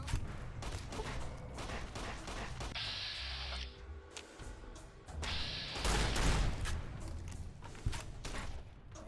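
Gunfire in Fallout: New Vegas, dense clattering volleys and thuds in two main bursts, fairly close within a busy game soundscape.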